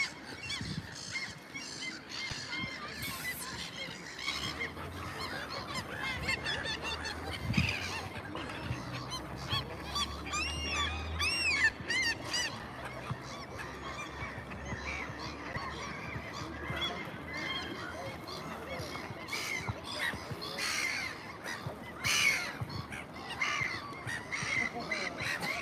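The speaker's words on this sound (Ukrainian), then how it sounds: "Утки против чаек, чайки против уток." Gulls and ducks squabble with a constant stream of harsh calls, squawks and quacks in an outdoor setting, rising and falling throughout, while a person talks at intervals.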